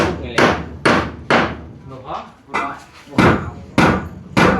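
Nails driven into wood with a hammer during house building, a run of about eight sharp, loud strikes in an irregular rhythm with a short pause midway, close by and without talk.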